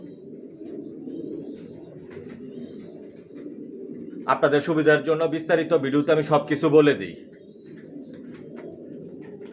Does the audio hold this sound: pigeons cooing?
yes